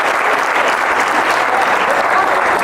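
Steady, dense applause from a stand-up comedy audience, many hands clapping at once in a loud, continuous wash that holds evenly for under three seconds with no speech over it.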